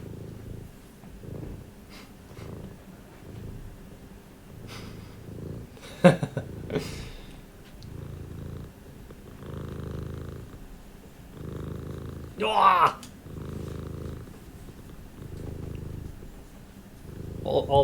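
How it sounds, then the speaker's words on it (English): A cat purrs steadily in soft, rhythmic pulses close to the microphone, with a couple of brief louder rustles or handling noises partway through. "Oh, he's already purring."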